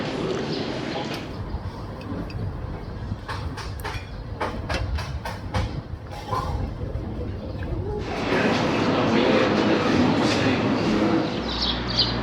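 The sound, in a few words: steam train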